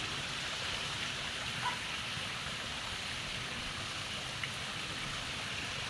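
Steady broadband rush of river water flowing continuously at close range, even and unbroken throughout, with no voices over it.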